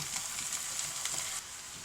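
Taro corms, leaves and stems hitting a pan of softened onions, sizzling and frying with soft stirring scrapes, a quiet steady crackle that dips slightly near the end.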